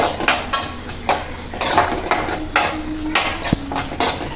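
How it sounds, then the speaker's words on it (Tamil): Ladle stirring tomatoes and garlic sautéing in a metal pan for rasam, with loud rhythmic scraping and clanking strokes every half second, close up, with a faint sizzle underneath. "இதை நல்லா வதக்கணும்."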